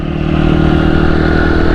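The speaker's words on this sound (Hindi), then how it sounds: "हमारी करीब से जो है ना जूम जूम करके निकलेंगे मोटरसाइकिल वाले" Motorcycles ride past closely on a city street, a loud, steady engine drone and clatter that fills the whole moment without a break.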